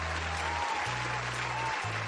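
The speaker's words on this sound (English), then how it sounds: "Hey, people are cheering." A large crowd cheers and applauds in a steady, loud wash of clapping, with low droning tones running underneath throughout.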